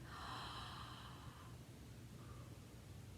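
One slow deep breath drawn in through the mouth, soft and close, with a long airy inhale that tapers into quiet room noise.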